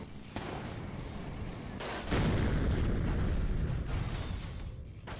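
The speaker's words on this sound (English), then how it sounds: "Drop a pipe bomb." A pipe bomb goes off in a video game, a loud booming blast that swells to a heavy, sustained roar of rumbling explosion noise filling the last few seconds.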